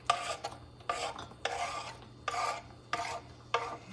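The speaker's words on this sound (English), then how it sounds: "I'm going to add these onions to the saute pan, and we're going to saute these for about, maybe 10 minutes or so" Onions being stirred in butter in a saute pan, with rhythmic bursts of scraping and sizzling at roughly half-second intervals over a low steady hum, close up with no talking.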